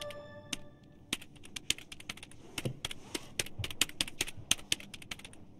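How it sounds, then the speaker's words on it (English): Librarian typing on a computer keyboard in the video game Broken Sword 2.5, a quick irregular run of crisp key clicks, close and clear, with faint background hum. "She's typing something on her keyboard."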